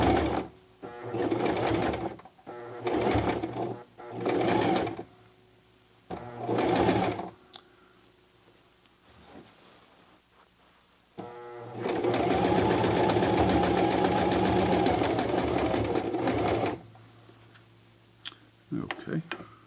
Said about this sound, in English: this is probably about the thickest seam you would sew in home deck fabric.